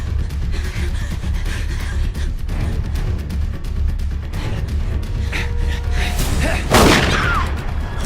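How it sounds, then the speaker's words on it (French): Gunfire in a horror film action scene, with rapid bursts of shots and booms over a dense rumbling score, and a sharp, louder blast near the end. "Ouah, il nous tire dessus."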